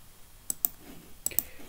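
Two pairs of quick, sharp mouse clicks spaced apart, made while working in MSC Adams View CAD software. They sound close and distinct, with near silence between them.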